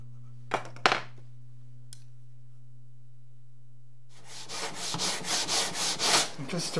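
Wooden fingerboard of a stringed instrument being planed, with a couple of sharp scrapes and then a run of rhythmic, rasping strokes close by over a steady low hum.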